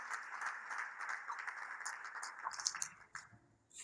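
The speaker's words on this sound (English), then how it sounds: "let's put our hands together again for the convener of this event" A summit audience applauds, a steady wash of many hands clapping at moderate distance that thins out and fades toward the end.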